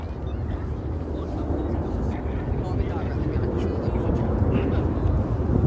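A Typhoon jet roars past at the RAF Cosford air show 2025, a loud, continuous, broad rumble that builds slightly toward the end, with wind buffeting the microphone.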